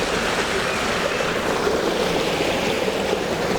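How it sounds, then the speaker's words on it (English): Water pours steadily through the open sluice of a water wheel at Moulin Nauze hydro power mill, a constant dense rushing roar with no pauses, close and loud throughout. "increase the water flow a little bit, pulling out the sluice"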